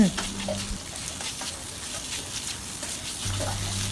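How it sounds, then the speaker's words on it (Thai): Chicken offal stir-fried dry with holy basil, two kinds of chili, sugar and dark soy sauce, a close steady sizzle with stirring scrapes, a low hum faintly underneath. "แล้วก็ทำการผัดต่อค่ะ ผัดคลุกเคล้าให้ส่วนผสมทุกอย่างเข้ากัน"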